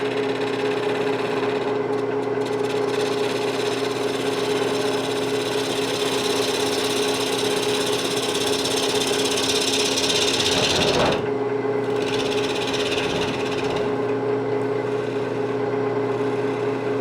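A wood lathe turns a rough, green apple wood bowl blank, giving a loud, steady machine drone with a rhythmic thumping from the unbalanced blank and a brief dip in the middle.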